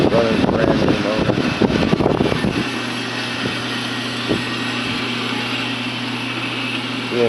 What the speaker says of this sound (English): Fired up. Runs real nice. It's running brand new motor.